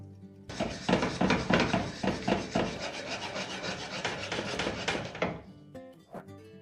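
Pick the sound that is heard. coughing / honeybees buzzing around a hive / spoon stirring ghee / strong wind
spoon stirring ghee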